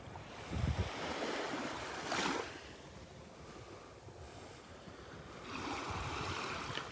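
Ocean waves wash onto Vanderbilt Beach on a morning walk, a soft, distant rushing surf that swells and fades in slow pulses under light wind noise, with no voices.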